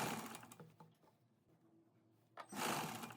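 Sewing machine stitching a sleeve onto a suit, running in short bursts with a quieter pause between, then a loud sustained run near the end, close and clear with no talk.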